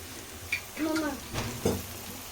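Onions frying in a pan for a spicy curry leaf and pepper chicken dish give a soft sizzle with stirring scrapes, while a voice briefly sounds over it.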